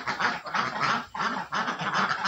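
Laying ducks in a dry pen give repeated loud honking quacks in quick bursts, close by, with no talk over them.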